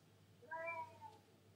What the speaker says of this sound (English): That cat's so pissed off.